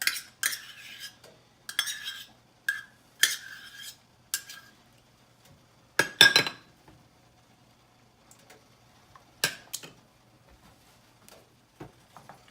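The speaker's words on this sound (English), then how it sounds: "you're just going to stir that up just until everything is incorporated really nicely" A spoon stirs milk and sour cream in a bowl, with scattered bright clinks and scrapes against the bowl in short bursts separated by quiet gaps, close by and without talk.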